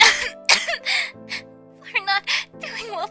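A young woman coughs up blood into a toilet bowl in an audio drama, producing a series of harsh, wet coughs and strained gasps in short bursts over a quiet, sustained musical tone.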